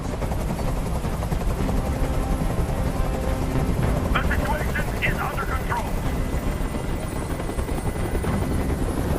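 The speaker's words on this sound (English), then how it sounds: "I can't stand that noise anymore. Tell that helicopter to get out of here." A helicopter drones steadily overhead in the video game Detroit: Become Human, a loud continuous rotor roar filling the scene while a voice speaks briefly under the noise.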